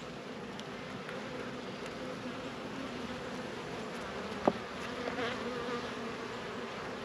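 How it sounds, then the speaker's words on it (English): Honeybees buzz steadily and densely around an opened hive during a frame inspection, a close continuous drone with one brief sharper knock, and no talking. "Just checking the bees"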